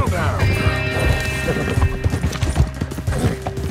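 A war horse's hooves clip-clop steadily in Red Dead Redemption 2, with snorts and a whinny mixed in, all close and busy beneath someone talking.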